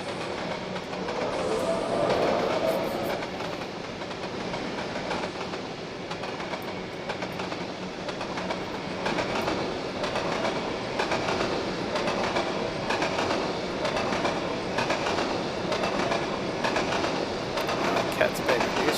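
A train passes in a video game, heard as a long continuous rumble with rhythmic clickety-clack of wheels on rails, steady and fairly close throughout, with some speech-like sound mixed in.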